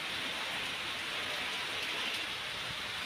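Heavy rain falling steadily in a dense, even hiss, close and continuous with no breaks and no voices.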